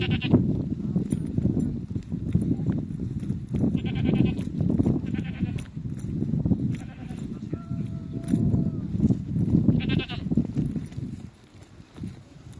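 Several bleats from goats or sheep rise over a steady rumble of outdoor noise, spaced irregularly through the clip at moderate distance.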